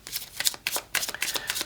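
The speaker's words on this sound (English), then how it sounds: "Give it a quick shuffle" Rider-Waite-Smith tarot deck being shuffled quickly, a close run of crisp riffling card flutters in several bursts, no voices.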